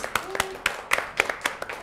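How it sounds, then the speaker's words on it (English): Several sharp claps ring out in a loose, uneven rhythm, a brief scattered round of clapping from a small group rather than full applause. "Let's give a round of applause."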